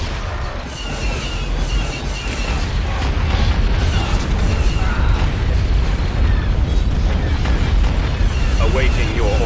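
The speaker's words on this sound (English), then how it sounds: "Bombardment incoming." Heavy booming explosions and rumbling blasts from an orbital bombardment in the strategy game Star Wars: Empire at War, dense and loud throughout with low-end thunder and crackling bursts, mixed with game voices.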